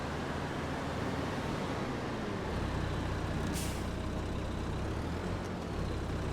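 A truck's air brake in Farming Simulator 22 gives one short, sharp hiss midway through, over a steady low engine rumble that runs the whole time.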